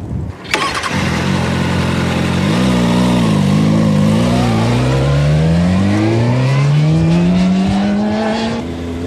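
A motorcycle engine cranks and fires, then idles loudly up close before revving with a steadily climbing pitch as the ride gets under way.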